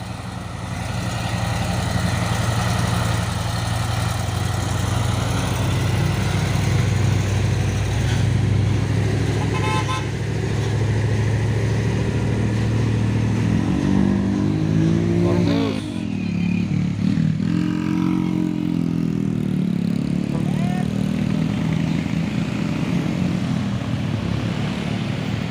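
Traffic passing on Bukit Kodok, a hill road, with palm-oil trucks and buses going by: a continuous loud engine roar, a rising and falling drone as heavy vehicles pass, and a few horn toots.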